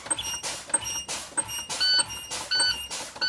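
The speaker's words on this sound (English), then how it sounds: "My alarm and buzzers did come on to indicate that I'm losing air pressure." Low air pressure warning in a Class A truck cab, repeated high-pitched beeps in a steady rhythm about twice a second over a background hiss of air being released from the brakes.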